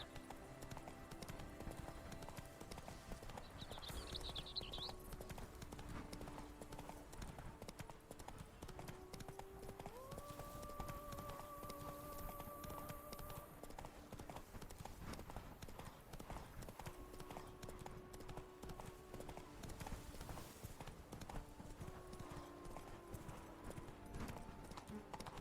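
Roach, Geralt's horse in The Witcher 3: Blood and Wine, gallops in a steady rhythmic clip-clop of hooves that runs throughout, under sustained game music.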